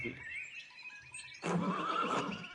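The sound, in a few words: horse neighing in video game Pentiment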